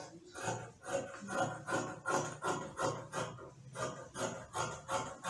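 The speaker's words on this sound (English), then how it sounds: "Okay, so we're going to cut the side now." Scissors cut through gown fabric in a steady rhythm of repeated crunchy snips, about two per second, close and fairly quiet, with no talking.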